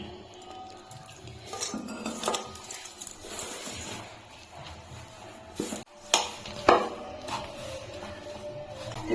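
Flour and coriander-leaf dough for nimki is kneaded firm in a bowl with small splashes of water, giving irregular close squelching, rubbing and knocking against the bowl, with a few louder clinks.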